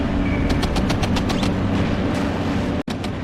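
Machine-gun and cannon fire in the real-time war game WARNO, with rapid rattling bursts over a dense, loud rumble of battle and a brief cut near the end.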